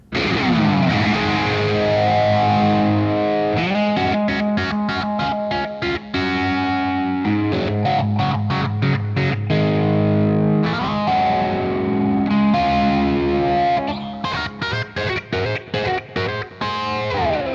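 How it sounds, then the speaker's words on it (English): Distorted electric guitar riff run through an MXR Phase 90 phaser pedal set low, playing choppy palm-muted chords and sustained notes, loud and continuous with no talking. "it sounds like he's also kicked on the good old MXR Phase 90 in the 9 o'clock position for added texture"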